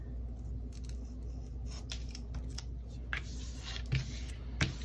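Scissors snip through a paper planner sticker in a few short, crisp cuts, close up and quiet, spaced irregularly over a low background hum with no talking.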